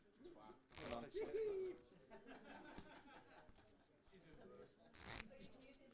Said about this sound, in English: Adam's dealing, shuffling like a professional, which he is.